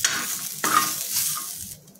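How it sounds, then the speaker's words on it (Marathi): Chopped garlic and green chillies roast in a pan for a clam masala, giving a close sizzle with bursts of stirring scrapes. The sound comes in short surges and fades toward the end, with no talking. "बारीक कट करून घेतलेला लसूण, ते सर्व आपल्याला एकत्र करून भाजून घ्यायचे।"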